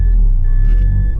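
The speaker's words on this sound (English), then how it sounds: "I'm gonna move the car" A beater car's engine rumbles low and steady at idle or low speed as it is moved along a street, continuous and close with no talking.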